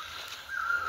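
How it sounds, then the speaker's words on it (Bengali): A single bird calls once, a short thin note, in forest beside Pokhri lake in the afternoon, faint against a quiet outdoor backdrop. "পাখির ডাক শোনা যাচ্ছে।"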